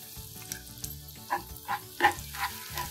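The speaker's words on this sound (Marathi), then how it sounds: "हे मिश्रण आपण आता या तेलात टाकू।" Spice mixture tipped into hot oil for guava pickle, with the gas switched off: a soft sizzle broken by several short, bright crackling bursts and some stirring, close by and fairly quiet, with no talking.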